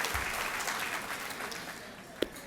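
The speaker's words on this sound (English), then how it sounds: "Let's give them a nice round of applause for this wonderful event" Audience applause fills an awards celebration, steady moderate clapping for a couple of seconds, fairly distant, with one sharp knock near the end.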